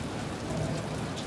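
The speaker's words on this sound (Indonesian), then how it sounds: "Wow, hujan-hujan malam-malam ke TKP." Steady, dense rain pours down at night in the video game Detroit: Become Human, a continuous close hiss with no pauses over the short span.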